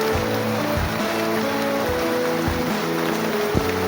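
Steady rain hissing across a surface, a dense continuous patter with occasional low thumps and a faint tonal hum beneath.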